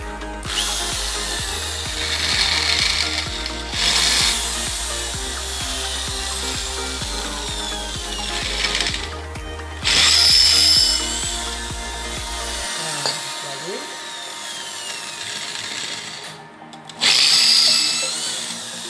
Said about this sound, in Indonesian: Saya bor dulu.